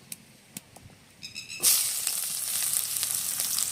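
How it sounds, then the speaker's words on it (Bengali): Chopped onion dropped into hot oil for an eggless vegetarian Bengali curry, a few soft clicks and taps before a sudden loud hiss that settles into a steady, close sizzle. "যে পেঁয়াজটা কেটে নিয়েছি সেটা আগে তেলে দিয়ে দেবো অল্প করে"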